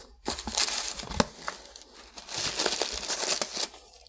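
Green tissue paper crinkles and rustles as a CD package from Japan is unwrapped, with close, continuous crackling in bursts over about four seconds and no talking.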